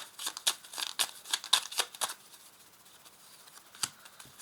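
Tarot cards shuffled and one drawn from the deck, a run of quick, crisp papery slides and snaps close up, then quieter rustling, with no one talking.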